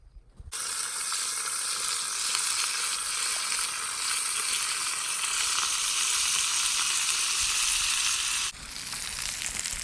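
Catfish fry in raccoon fat in a pan over an outdoor fire, starting with a loud sudden hiss and a steady close sizzle that drops a little near the end; no voices.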